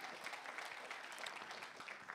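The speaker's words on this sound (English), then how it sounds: "let's give Emma a round of applause." A church congregation at a Sunday morning service claps steadily, a soft, even patter of many hands that stays at a constant level with no speech over it.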